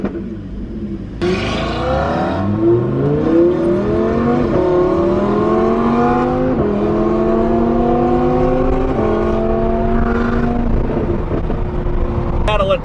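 A 900 horsepower BMW M5 accelerates hard in a race, its engine roaring loud and close and climbing through repeated rising gear sweeps, each shift dropping the pitch before it climbs again, with constant rumbling road noise underneath.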